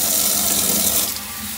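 Water from a kitchen tap runs steadily into a sink while mushrooms are rinsed for a lasagna, a broad, continuous rushing that stays close and fairly loud throughout.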